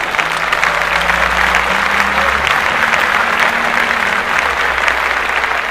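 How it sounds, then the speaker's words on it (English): Loud, dense clapping from a podcast studio audience, a continuous wash of many hands sustained for nearly six seconds, with a low hum underneath and no talk. "Clap that up."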